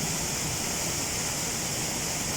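A waterfall pours in a steady, dense hiss of falling water that stays even and loud throughout, with no voices.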